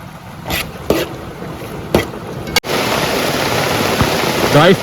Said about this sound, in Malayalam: നല്ല മഴ കേട്ടോ ഈ മഴയത്ത് ഞങ്ങൾ ബീഫ് ഉണ്ടാക്കണത്